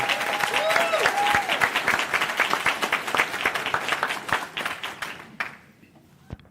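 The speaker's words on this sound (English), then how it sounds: "can we also give Dr. LeBaron a round of applause" A round of applause from the audience at an awards ceremony: dense, moderately loud clapping that thins out and fades to a few scattered claps near the end.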